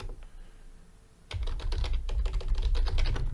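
Code is being typed on a computer keyboard. After a short quiet start, dense rapid key clicks follow close up and continue steadily to the end, with no talk.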